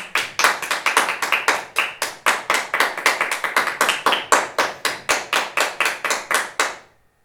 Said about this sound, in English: It's quite heavy, the clapping is very energetic, and it lasts already for some minutes